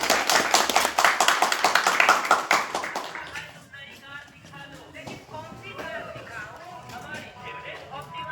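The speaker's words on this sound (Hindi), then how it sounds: "जोरदार तालियों के साथ।" Clapping from an audience at a ward felicitation ceremony, loud and sparse for about three seconds as the ward vice-president honours a guest, then fading under murmuring voices and background talk.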